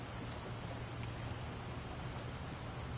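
Rain falls in the survival video game Project Zomboid as a steady, even hiss of drops. A soft low hum runs underneath, and the sound stays constant with no breaks.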